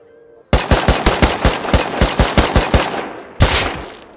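Rapid automatic gunfire in a video game shootout, a loud close burst of about a dozen sharp cracks in quick rhythm, a short pause, then another heavy shot with a ringing tail.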